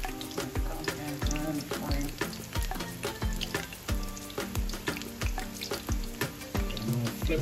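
Saltfish (codfish) fritters frying in a pan, a steady close sizzle with repeated sharp clicks and knocks of utensils against the pan, no voices.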